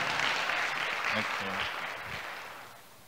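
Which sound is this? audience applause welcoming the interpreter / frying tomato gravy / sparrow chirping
audience applause welcoming the interpreter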